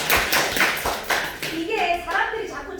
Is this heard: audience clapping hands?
yes